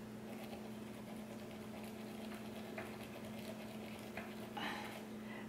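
A makeup brush is swirled and lathered in soap at a sink, giving faint, soft wet scrubbing and squishing over a steady low hum, with a few slightly louder swishes near the end.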